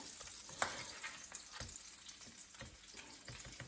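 Hake fillet sizzles in melted butter in a pan, a soft steady crackle with a few sharper pops and light scraping stirs, fairly quiet and close.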